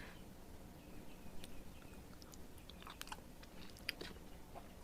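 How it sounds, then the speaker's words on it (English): Mac and cheese being chewed close to the mic at a mukbang meal, soft wet mouth sounds and small crunches recurring through a steady low background hum, no talking. "I'm trying to savor these mac and cheese"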